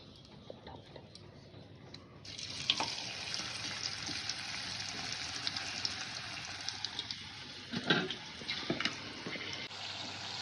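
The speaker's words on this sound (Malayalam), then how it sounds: "ഇത് ചൂടുള്ള എണ്ണ ഉണ്ട് അതിലിട്ട് ഇനി വറുത്തെടുക്കണം" Jackfruit fritters drop into hot oil, and a sudden broad sizzle starts after a quiet moment, then keeps hissing with scattered crackles and pops close by.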